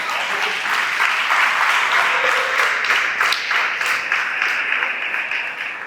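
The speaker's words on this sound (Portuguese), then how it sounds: "Vamos dar um aplauso a Jesus nessa noite." Sustained applause from a church congregation during an evening worship service, a dense steady wash of many hands clapping that fills the whole stretch, with a few faint voices underneath.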